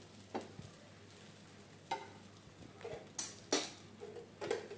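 Food sizzling in ghee in a pan as it is flipped over: soft scraping and clinks of a utensil against the pan come in a few separate bursts over a faint, quiet sizzle.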